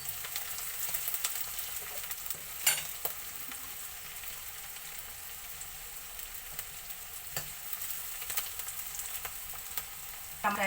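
Sliced onions sizzle softly in a pan while being stirred, a quiet steady fry broken by a few scraping clinks of a spoon, with no voices.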